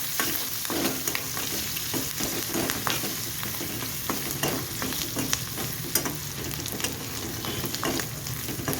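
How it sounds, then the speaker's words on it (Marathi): A hot tempering of asafoetida, garlic and chillies sizzles loudly in oil for a Maharashtrian moong dal. A spoon scrapes and stirs it in frequent, irregular strokes over a continuous crackle. "हिंग घालून छान परतून घ्यायचे आहे"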